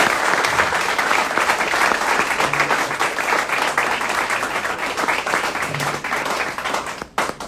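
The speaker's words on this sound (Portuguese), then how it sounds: "Dê um forte aplauso ao Senhor." A church congregation applauds loudly and steadily, dense clapping from many hands filling the room without a break, ending abruptly near the close.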